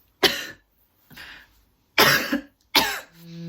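A person with covid-19 coughs in four separate bursts, close up and fairly loud, with short pauses between them and no talking.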